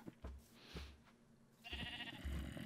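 Sheep in Minecraft bleat several times, short quiet baas spaced across the moment, with a brief louder scuffling noise near the end.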